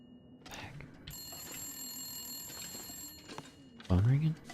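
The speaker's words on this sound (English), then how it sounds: "Phone ringing?" A telephone rings inside a building in The Long Dark, a steady electronic bell tone held for about two seconds at moderate volume, with a voice speaking briefly afterward.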